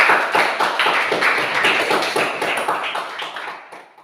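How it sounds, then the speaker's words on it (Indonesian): Classroom applause as students clap together for their group's discussion and presentation, a dense rapid patter of many hands at steady strength that tapers off near the end. "Tepuk tangan dulu."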